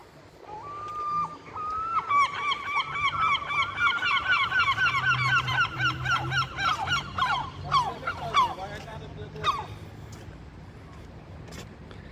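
Birds honk at a park in a long, dense run of loud, overlapping calls that fades out near the end, with a low background rumble beneath.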